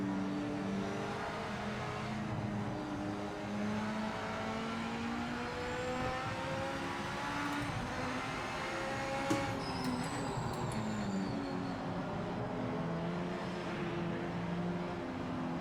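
A race car runs laps on a track in Project Motor Racing, its engine droning steadily with shifting pitch and faint tire squeal, heard continuously and fairly quiet with no talking.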